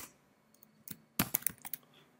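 Keys click quietly on a computer keyboard in a short, uneven burst of about a dozen strokes, close and otherwise silent.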